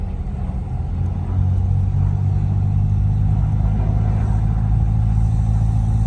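Manual car engine driving along with light throttle during a first driving lesson, a steady low rumble that holds close and even throughout with no voices.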